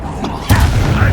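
A Confringo fire spell from the Hogwarts Legacy video game explodes in a single loud, sharp burst, followed by a rumbling low-end blast that sustains through the rest of the moment amid game combat noise.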